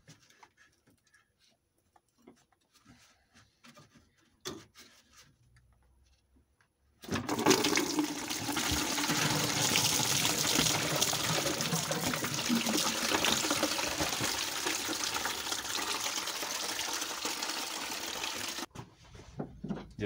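After a quiet stretch with a few small knocks, coolant drains from a Volvo 740 cooling system, pouring steadily into a bucket for about twelve seconds, a continuous splashing rush that stops abruptly.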